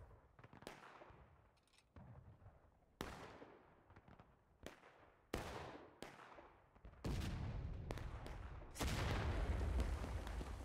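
Cannon and rifle fire in War of Rights, a 200-player Civil War-era historical rules event on the Colquitt's map: sharp, booming reports at irregular intervals, building into denser, louder volleys toward the end.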